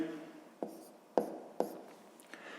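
Handwriting on paper during a sixth-grade maths exercise, a few soft scratchy pen strokes with light taps between, close and quiet, with no talking.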